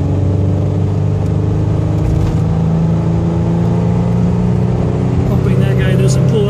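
A 1991 Pontiac Firebird T-top being punched hard on a cold road, its engine droning loud and steady from inside the cabin as it accelerates, with a faint voice in the background.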